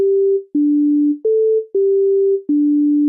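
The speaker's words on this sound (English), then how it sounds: "Now, we've got a simple sine wave." A pure, steady sine wave from the Europa synthesizer in Reason 10, with no filter or envelopes, steps between a few low pitches, each held note ending in a soft click before the next begins.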